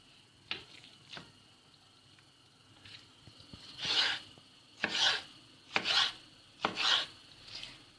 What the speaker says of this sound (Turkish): Şimdi ben malzemelerimi doğrayacağım.